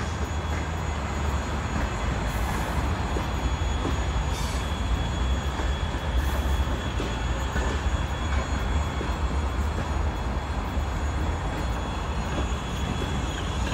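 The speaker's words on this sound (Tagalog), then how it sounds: "May tren na nadaan." A train rumbles steadily past at close range, a continuous loud roar of wheels on rails with faint squealing, no voices.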